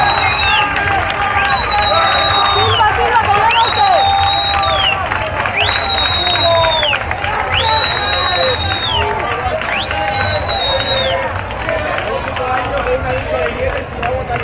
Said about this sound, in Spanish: Un fuerte aplauso para el alcalde Jaime Ramos y un apoyo, un aplauso